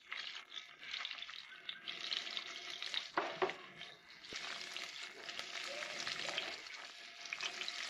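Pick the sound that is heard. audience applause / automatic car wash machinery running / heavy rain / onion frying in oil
onion frying in oil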